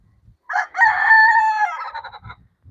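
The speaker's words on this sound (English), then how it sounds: "Could you guys hear that rooster crow" A rooster crows once nearby, a loud drawn-out cock-a-doodle-doo standing alone against quiet surroundings.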